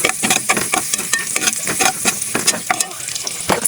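Onion frying in a hot pan, stirred with quick repeated spatula scrapes over a constant crackling sizzle, close and fairly loud with no voices.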